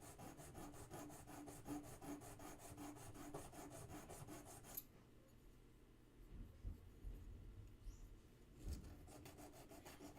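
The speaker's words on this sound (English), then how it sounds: "It's a little bit too wide, so I'll file that" A hand file rasps back and forth on a box clasp in quick, regular strokes for about five seconds, then stops, leaving only a few faint knocks and handling sounds.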